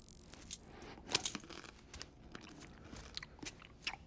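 Crunchy biting and chewing of a snack in the video game Death Stranding, a run of crisp irregular bites spread over a few seconds at low level, with no talking.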